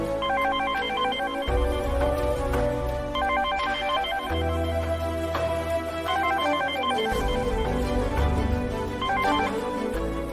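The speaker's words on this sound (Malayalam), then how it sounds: "ഞാന് സൗഭാഗ്യം ഒന്ന് വിളിച്ചു നോക്കട്ടെ" A telephone ringback tone heard while placing an outgoing call, with repeated ringing bursts in a steady on-off rhythm under a low background music bed, clear and moderately loud, with no one speaking.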